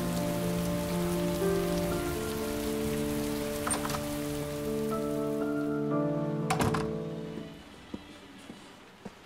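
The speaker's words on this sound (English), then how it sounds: "It's raining." Rain falls in the video game Heavy Rain, a steady patter that fades out near the end, with sustained musical tones over it and a few sharp clicks.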